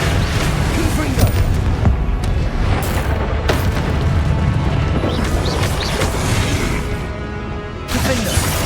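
Fiery Confringo blasts from spellcasting combat in Hogwarts Legacy, loud booming explosions layered with crackling impacts and a dense, sustained battle din, under shouted spell incantations.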